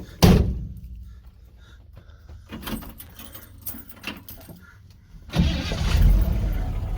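A 1959 Chevy El Camino is started: keys jangle and the door thunks close by, then the starter cranks and the engine catches into a loud, steady idle.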